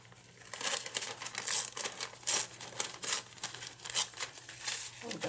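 Rice paper being torn by hand, a run of dry crinkling rips in quick irregular bursts, close and fairly loud, with a steady low hum underneath and no talking.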